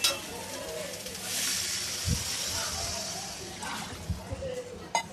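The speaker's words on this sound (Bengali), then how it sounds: "এবার আমি পরিমাণ মতো জল দিয়ে দেব।" Water poured into a sizzling pan of doi katla, a yogurt-based Bengali fish curry, bringing a steady frying hiss with bursts of bubbling and a few clinks and stirring knocks.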